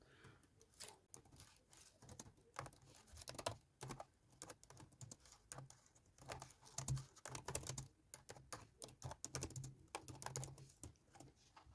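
Fingers type on a computer keyboard in quiet, close bursts of rapid key clicks, pausing briefly between runs, with no talking.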